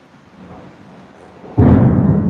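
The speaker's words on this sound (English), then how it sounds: "I know you guys can hear that thunder. It's horrible." Thunder from a storm over a homestead in Guanajuato, Mexico: quiet rumble, then a sudden loud deep crash that keeps rolling to the end.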